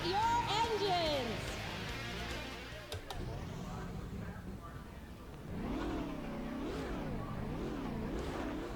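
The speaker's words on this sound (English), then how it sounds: "Drivers, start your engines!" Race car engines in NASCAR Racing 2003 roar at the start, a full field of stock cars revving and droning with rising and falling pitch as they accelerate, loud and continuous under a talking voice.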